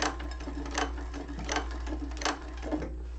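A sewing machine labors slowly over a thick seam on a Hollyhock hobo bag, its needle thudding in distinct, evenly spaced heavy strokes about every three-quarters of a second, close and fairly loud.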